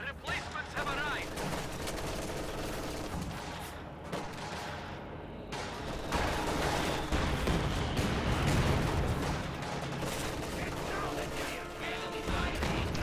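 Sustained gunfire and distant crashes roll through a World War II real-time strategy battle, a dense, continuous din of small-arms fire and heavier thuds with no pause throughout.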